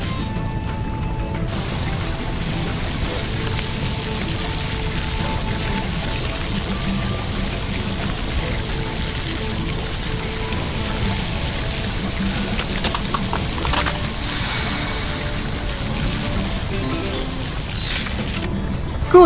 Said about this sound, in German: Hilf Marshall, die Felsen mit seinen Wasserdüsen abzukühlen